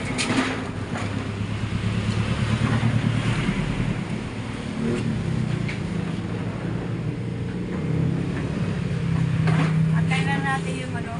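Strong February wind blowing by the sea, a steady broadband roar with surf-like rushing and gusts, continuous and loud throughout, with people talking in the background.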